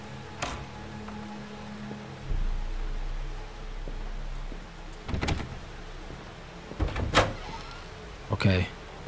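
A door swinging open in a horror video game, with scattered creaks, thuds and clunks of the mechanism standing out clearly over low ambient hum in a quiet room, while a person speaks briefly around the sounds.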